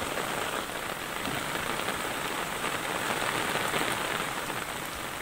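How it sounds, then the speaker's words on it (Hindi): Heavy monsoon rain in Churu, Rajasthan, pours down over flooded streets, a constant loud hiss of rain on surfaces at an even level from start to finish, with no voices. "भारी बरसात ने मुश्किल वाले हालात पैदा कर दिए।"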